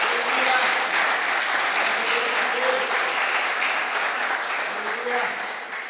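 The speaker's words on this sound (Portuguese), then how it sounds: "aplausa ao Senhor, sacode as suas mãos" A church congregation claps together in steady, dense applause throughout, loud and continuous, with voices talking and calling out underneath.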